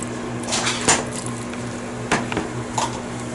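Sauce is poured over a Thai mango salad and tossed, with soft wet squishing and a few sharp clinks of a utensil against the bowl over a low steady background hum.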